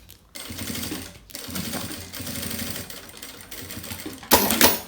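A sewing machine runs close by, stitching a seam along the edge of a thin fabric for a nail polish case, a steady mechanical whir with brief pauses and a louder burst at the end.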